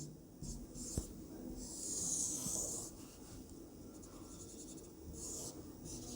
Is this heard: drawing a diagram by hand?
yes